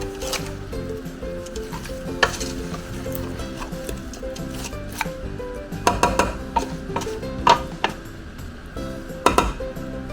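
A spoon stirring ingredients together with fried onions in a pot, heard as scattered metallic clinks and scrapes against the pot over a low background murmur, with clusters of sharper knocks toward the end.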